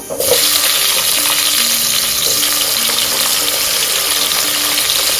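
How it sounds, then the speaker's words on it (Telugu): Tomatoes tipped into onions already frying for Andhra-style sambar, giving a steady, loud broadband sizzle that fills the whole stretch, with faint stirring underneath and no talking. "ఇప్పుడు నేను టమాటా వేస్తున్నాను"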